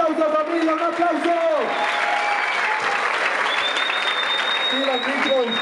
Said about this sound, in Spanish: ¡Un aplauso, familia! ¡Un aplauso!